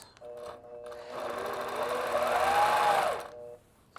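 A longarm quilting machine stitches a continuous curve along a curved quilting ruler, a steady buzzing hum rising and holding for about two seconds before stopping, close and loud with no talk.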